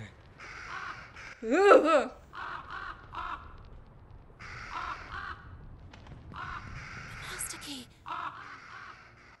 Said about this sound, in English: The birds are loud, just like you.